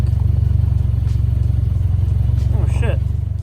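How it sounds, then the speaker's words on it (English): A car engine with an exhaust leak idles steadily up close, giving a loud, pulsing low rumble with a rapid regular beat that continues throughout. "I got an exhaust leak."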